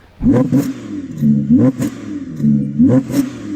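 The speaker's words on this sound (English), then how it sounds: "this is what the Audi R8 sounds like" An Audi R8 engine revs hard three times in succession, each rev rising and falling sharply, loud and close with no talking.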